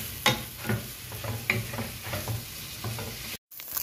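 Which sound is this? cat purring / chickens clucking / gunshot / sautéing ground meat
sautéing ground meat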